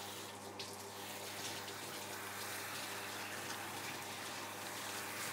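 Running water streams steadily from a nearby tap or sprayer while rinsing a dog's fur during a bath, a continuous hissing flow with slight splashing throughout.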